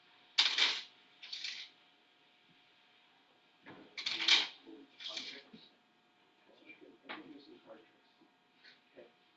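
A deck of playing cards is shuffled in a few quick riffling bursts with soft taps and pauses between them, close and fairly quiet, with someone speaking softly in the background.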